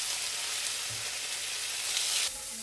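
Onion frying in a pan as the start of a Thai green curry, a steady bright sizzle with faint stirring scrapes, loud and close, easing slightly near the end.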